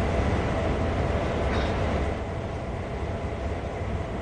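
Steady freight train running in Train Sim World 2 on Sand Patch Grade: a heavy low rumble with a brief brighter squeal near the middle, easing slightly quieter afterward, no talk.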